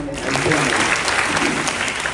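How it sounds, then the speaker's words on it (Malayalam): Schoolchildren applaud together in a classroom, a loud burst of dense, steady clapping close by for the full span. "ആയിഷക്ക് നല്ലൊരു ക്ലാപ്പ് കൊടുക്കുന്ന"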